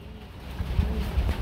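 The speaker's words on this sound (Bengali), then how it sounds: "এটা কিং কবুতর রেড কালারের মধ্যে" Red king pigeons cooing, low throaty coos pulsing in a few short bursts against a steady breezy background hum.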